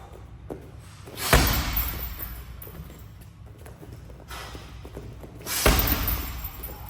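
Two heavy thuds land on a heavy bag several seconds apart, stick and kick strikes amid quieter shuffling and faint taps.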